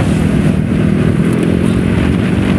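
A Honda Vario motor scooter, about five years old, rides along a road carrying a couple, its steady engine drone and wind rush filling the short stretch close and loud.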